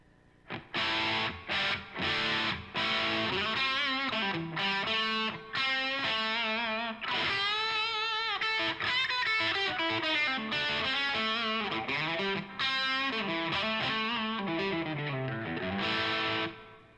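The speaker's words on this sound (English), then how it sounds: "So I'll give you some tones. Bridge humbucker." An electric guitar played through its bridge humbucker pickup with a distorted, effects-laden tone rings out loud and continuous, strummed chords and melodic runs filling the passage without any talking.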